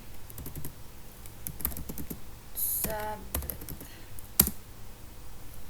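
Fingers type on a computer keyboard in quick, irregular bursts of light clicks with a few louder key strikes. The typing is close and fairly quiet against a low background hiss.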